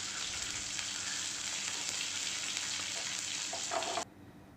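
Mustard seeds, urad dal and curry leaves frying in a little oil for a tempering, an even crackling sizzle close by for about four seconds that cuts off abruptly into near quiet.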